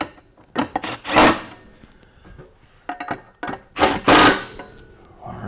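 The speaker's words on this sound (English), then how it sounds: "Go ahead and tighten these 2 bolts." Socket wrench tightening driveshaft bolts on a Honda CR-V RD1 under the car: two short bursts of rasping ratchet clicks, close and fairly loud, with quiet pauses between.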